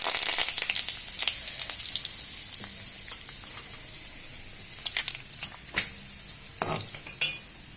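Cumin, mustard seeds and curry leaves fry in hot oil, a bright continuous sizzle broken by irregular spits, crackles and stirring scrapes of a utensil in the pan, close and fairly loud.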